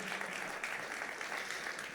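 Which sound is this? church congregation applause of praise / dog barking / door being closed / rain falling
church congregation applause of praise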